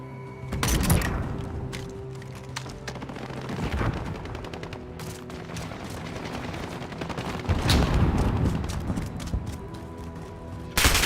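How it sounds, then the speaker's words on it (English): Call of Duty: Modern Warfare gunfire: rapid automatic bursts and single sharp shots crack close and loud, with heavier blasts near the start and end and brief lulls between volleys. "Stop shooting at me!"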